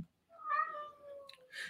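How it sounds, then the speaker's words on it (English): A pet cat gives a clear, close meow with a rising then falling tone, followed by a short second chirp, in an otherwise quiet room. "my cat is here"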